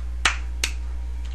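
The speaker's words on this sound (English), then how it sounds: "I will now do the sound clap." Two sharp, close hand claps about half a second apart, followed by a faint third tap, against a low steady hum.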